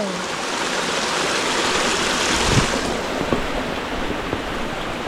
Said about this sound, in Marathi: गलीला पाणी बघा कसं मजबूत आलंय.